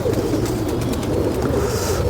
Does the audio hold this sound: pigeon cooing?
yes